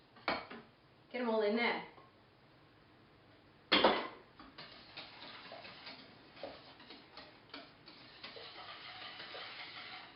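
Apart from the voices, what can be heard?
whisking egg yolks for Portuguese tart custard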